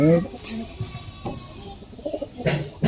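A pigeon coos in low, soft calls at the start and again near the end, among pigeons kept by a hobbyist where a young male Naptha chick is being shown, with someone talking over much of it.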